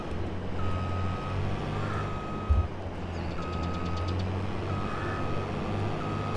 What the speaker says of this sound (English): So I'm just bringing the combine into the shed here.